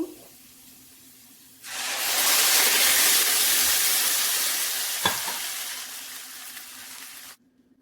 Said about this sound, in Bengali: আর কিছুক্ষণ বেজে নেব কালো জিরা পেঁয়াজ রসুনের সঙ্গে এগুলো বাজা হয়ে গিয়েছে ব্লেন্ড করা টমেটো দিয়ে দেব